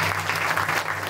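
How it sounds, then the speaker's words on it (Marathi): A short burst of audience clapping at a Marathi kirtan, dense and fairly close, lasting about a second over a low steady hum from the sound system. "त्यांच्यासाठी एकदा जोरदार टाळ्या."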